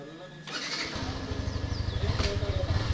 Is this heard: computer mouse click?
no